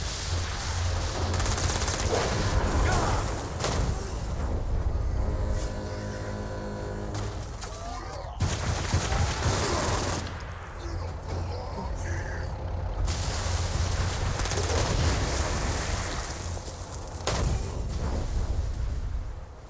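Gunfire in Saints Row: Gat Out of Hell, sustained loud automatic shooting with heavy bursts that run almost continuously across the scene, with occasional brief breaks.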